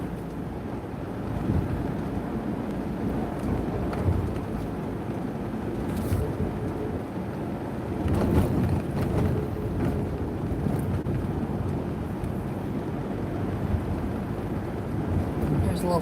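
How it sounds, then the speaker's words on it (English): Rain falls steadily on a vehicle driving into town, a dense, even wash of hiss over a low road rumble that holds for the whole stretch. "And it's raining."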